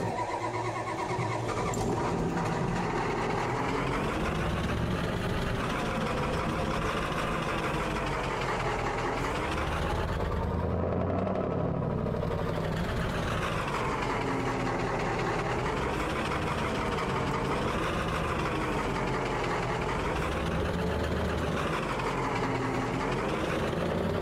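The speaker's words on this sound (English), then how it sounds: "I'm gonna hop in here in my classic Ford" Classic Ford truck engine in Farming Simulator 22, a loud continuous engine drone that rises and falls as it revs and settles, close and steady throughout with a brief dip near the middle.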